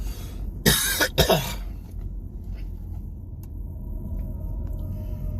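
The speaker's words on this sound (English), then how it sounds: "Sorry about the coughing." A few sharp coughs close to the mic, followed by quiet background rumble.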